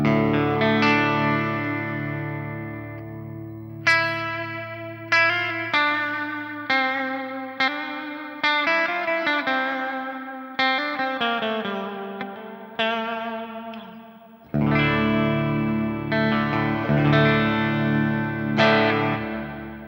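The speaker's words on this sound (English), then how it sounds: "And so the very last block, I'm going to put a reverb onto there. I'm just going to use the Ganymede." An electric guitar run through an HX Stomp XL with Ganymede reverb plays distorted chords and notes, each strike ringing out into a long, washy reverb tail, loud and alone.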